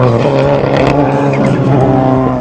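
Rockstar Etnies Ford Fiesta rally car engine running loud and close, a steady harmonic drone with slight revving fluctuations throughout and no talking.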